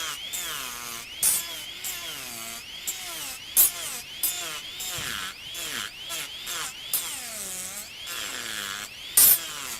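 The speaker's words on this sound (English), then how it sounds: "I'm just going to do a little sanding on this block." A Fordham micro motor carving unit at maximum revs sands a block, its high whine wavering and dipping as it presses in, with sharp scraping bursts at irregular moments.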